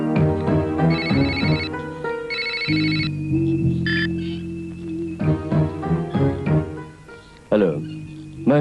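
A telephone rings in a Malayalam romantic movie with a melodic electronic ringtone, repeating bright tonal phrases that stand out over the film's background music and low voices.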